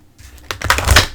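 Quick riffling clatter of oracle cards being shuffled, building to a denser burst near the end, close and fairly loud with no talking.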